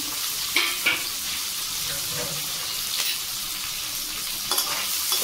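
Onion pieces and large chunks of green chilli sizzle steadily in oil in a pan, with occasional scraping stirs breaking through the continuous frying hiss; no talk.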